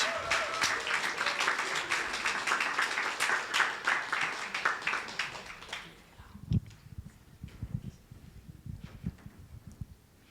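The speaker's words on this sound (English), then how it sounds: "Keep your hands clapping, keep clapping, as we get Bruna on up to the stage" A crowd at an Ignite Talks evening at MSU claps loudly and continuously as the next presenter walks up. The applause fades after several seconds to scattered claps and soft thuds and shuffles.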